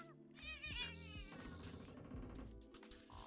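Strange, warbling cat meows and caterwauling, close and fairly loud, rising and bending in pitch in a quick run of calls with no talking.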